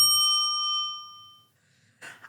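A small handheld bell gives a single bright ding that rings out clearly and decays over about a second and a half, followed by a short burst of noise.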